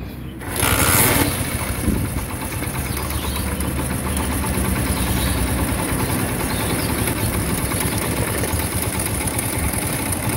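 A Honda CD 70 motorcycle with a faulty oil pump starts up and then idles steadily, with an even rapid chugging that stays close and fairly loud.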